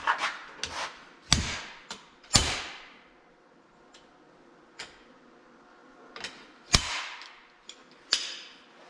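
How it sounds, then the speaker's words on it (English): A seal puller works a seal out of a part held in a vise during restoration of an Oliver 1855 tractor: sharp metallic knocks and scrapes come at irregular intervals, close up, with quiet gaps between them. "I'm going to put this in a vise and get the seal puller."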